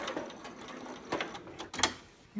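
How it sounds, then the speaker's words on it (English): Close-up sewing machine back stitching a seam on fabric with elastic, sounding as a series of short uneven bursts and clicks rather than a continuous run. "I'm going to back stitch."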